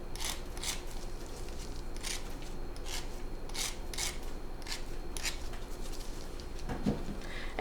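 Gritty orange and cream sea salt soap handled and rubbed close up, producing a series of rough, rasping scrapes at an irregular rhythm over a faint background hum.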